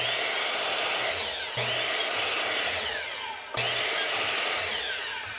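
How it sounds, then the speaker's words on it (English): A saw set at 45 degrees nips small corners off a wooden square for a log cabin birdhouse, a loud continuous cutting whine broken by two brief dips between cuts. "with the saw at 45 degrees, I just need to nip just a little bit off of each corner"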